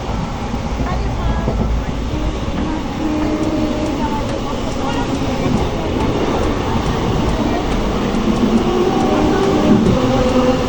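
Express train on the Digha to Kolkata line heard from inside a carriage, a continuous loud rumble and rattle of wheels with faint background voices.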